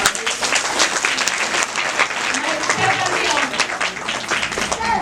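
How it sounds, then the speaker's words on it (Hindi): An audience at a village awareness event on conserving natural resources and livelihoods breaks into loud, sustained clapping, close and full, with some crowd voices mixed through the applause. "एक बार जोरदार तालियां देना।"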